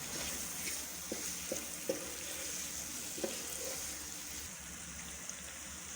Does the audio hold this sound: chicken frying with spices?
yes